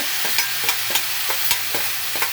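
Onion, tomato and coriander gravy frying in a pan, stirred in a steady rhythm of about eight regular scrapes over a constant loud sizzle, with no voices.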